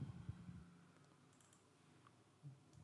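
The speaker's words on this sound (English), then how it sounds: "typing this IP address" Quiet clicks of a computer keyboard, a short burst of closely spaced keystrokes early on, then sparse faint taps against a soft background hiss.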